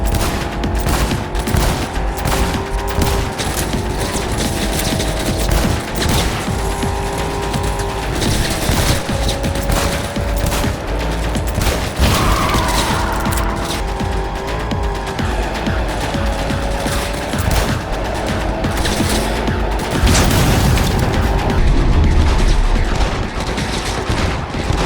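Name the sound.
gunfire from a pistol in the video game Cyberpunk 2077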